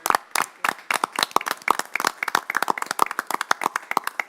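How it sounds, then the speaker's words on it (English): Scattered hand claps from a small audience at a town council meeting, sharp and uneven, a few dozen distinct slaps over several seconds rather than a dense roar, with no talking. "a round of applause for"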